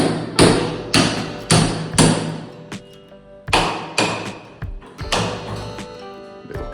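Hammer blows strike repeatedly while a door is knocked free of its frame, loud close thuds coming in quick clusters of two or three with brief pauses between them.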